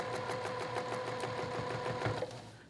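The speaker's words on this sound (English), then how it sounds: "You want to be careful you don't sew over your finger" A sewing machine stitches quilt blocks in a steady, fast whirring rhythm of needle strokes with a humming motor tone, close and continuous before slowing and stopping near the end.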